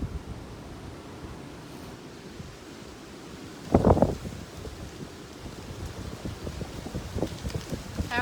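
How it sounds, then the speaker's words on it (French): Wind blowing outdoors makes a low, fluttering rumble on the microphone with a soft hiss behind it. One stronger gust bursts through midway, and then the wind settles back to a steady buffeting. "le vent s'est levé"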